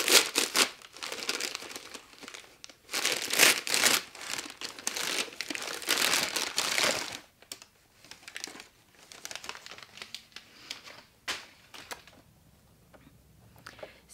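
Bubble wrap crinkles and tears as items come out of a large parcel, in dense bursts of crumpling for the first seven seconds, then sparser, quieter rustles and crackles, with no talking.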